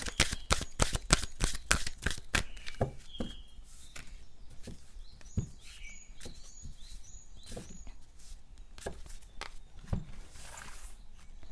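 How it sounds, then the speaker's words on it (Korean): Tarot cards being shuffled and drawn: a quick run of loud, crisp riffle snaps at the start, followed by softer sliding and patting of cards with scattered light clicks, close up and without speech. "제가 조언 카드를 조금 더 뽑아보도록 할게요"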